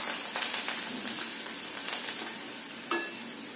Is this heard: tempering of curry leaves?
yes